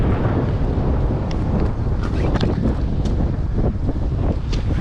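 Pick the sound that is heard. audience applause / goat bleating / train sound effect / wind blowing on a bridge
wind blowing on a bridge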